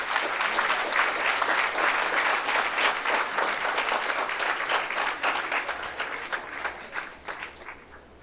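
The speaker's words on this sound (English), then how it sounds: "Please give her a big round of applause." Sustained applause from a seated audience at a 2022 convocation ceremony, dense steady clapping that carries on for several seconds before thinning slightly toward the end.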